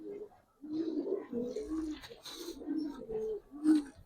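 A pair of old-breed Giribaz pigeons cooing in repeated low, throaty phrases close by, steady over a few seconds with no speech.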